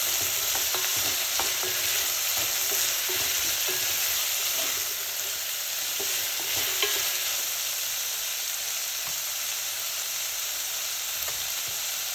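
Seafood soup being stirred in a pot with pimento seeds: steady sizzling hiss with scattered scraping and clinking of the spoon throughout, close and continuous, no talking.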